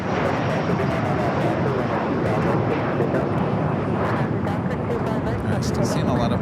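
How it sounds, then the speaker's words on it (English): Air Tahiti Nui airliner, Flight 7, at Los Angeles International Airport, a steady broadband roar of jet engines holding loud and constant throughout, with faint voices mixed underneath. "This is Air Tahiti Nui, Flight 7, heading back to Papa Ete."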